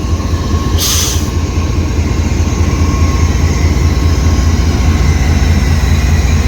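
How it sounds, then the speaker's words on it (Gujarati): A new goods train rumbles past loudly and continuously at Vijapur, with a low, heavy roll of wheels and a short hissing burst near the start. "તો જે ટ્રેન છે નવી જ છે,"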